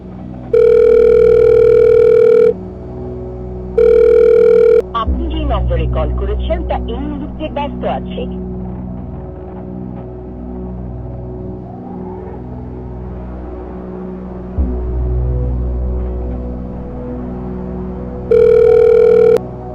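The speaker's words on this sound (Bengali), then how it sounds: "এখনই ফোন দিয়ে তোদের সব উত্তর দিতাছি" Outgoing-call ringback tone on a phone in a Bengali short drama, heard as repeated steady tone bursts near the start and again at the end, with a stretch of low background music and movement noise between them.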